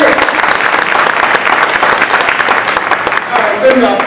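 Loud, dense applause from a live audience fills the whole stretch, steady and close, with a voice starting to speak over the clapping near the end.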